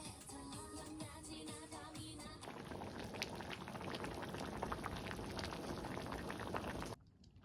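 Beef large intestine boils in a pot at a campsite, a steady, dense bubbling and gurgling that holds evenly for about seven seconds before cutting off abruptly.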